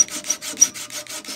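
Handsaw flush-cutting a wooden dowel level with a wooden stool top, about eight steady rasping strokes in an even back-and-forth rhythm, close and moderately loud, with no voices.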